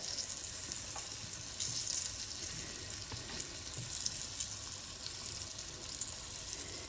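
Floured liver sizzles in butter in a skillet, a steady close frying hiss with light crackle and no talking.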